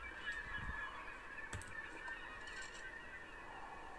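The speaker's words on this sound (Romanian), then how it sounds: "toți porumbeii țipă" Birds in the Tomb Raider game squawk and honk harshly in a continuous, fairly faint chorus over a steady background, with no voices.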